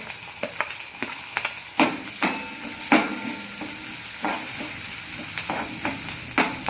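Onion and chili fry in oil in a pan over a low gas flame, with a soft continuous sizzle broken by repeated sharp scrapes and taps of a spoon stirring the pan.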